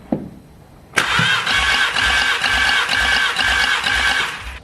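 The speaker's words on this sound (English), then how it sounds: "So yeah, I'm gonna do the compression test now and I'll share my results." Starter cranking a 500 bhp VW Golf GTI engine for a compression test with the fuel pump disconnected, a loud steady whirring drone with rhythmic compression pulses, close and continuous after a brief quiet start.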